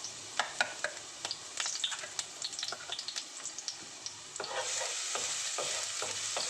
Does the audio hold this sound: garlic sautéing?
yes